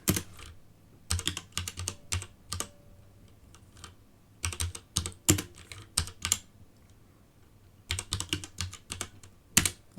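Bursts of typing on a computer keyboard while entering disk partitioning commands, with quick clustered keystrokes separated by short pauses, close and fairly clear, with no talking.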